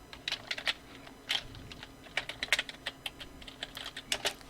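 Keys tapped on a computer keyboard in short uneven bursts, a word typed out with quick clustered clicks and brief pauses between letters, close and fairly quiet with no voices.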